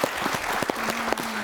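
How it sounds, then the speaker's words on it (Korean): Studio audience applause on a Korean antiques appraisal TV show, a short steady round of clapping with a faint tone running under the second half. "박수 한번 나와요"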